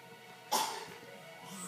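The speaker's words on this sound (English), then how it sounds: "Who's coughing?" A single short cough bursts out indoors at home, brief and fairly close against a quiet background, followed by a faint softer sound.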